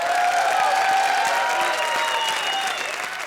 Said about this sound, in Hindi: एक बार आर्ची और अरबाज के लिए जोरदार तालियां